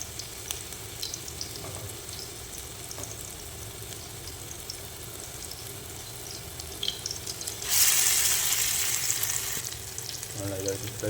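Mutton kheema kababs fry in a pan with a steady, close sizzle, and a louder hissing burst swells partway through before settling again.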